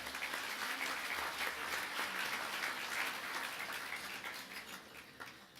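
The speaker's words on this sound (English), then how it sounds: "She deserves an applause." An audience at a formal community event gives steady applause, a soft, even patter of many hands that sounds somewhat distant and fades slightly toward the end.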